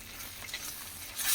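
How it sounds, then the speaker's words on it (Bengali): Grated paneer stirred into a spiced masala in a frying pan over low flame gives a quiet scraping and soft sizzle, swelling briefly louder at the end. "ফ্লেম আস্তে করে এবার এটা নাড়াচাড়া করতে থাকবো।"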